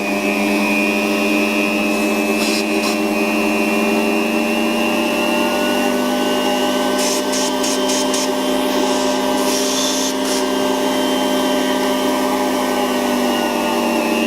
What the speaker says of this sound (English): So the level 1 noise, it's not too noisy, it's still noisy, it's essentially a suction motor.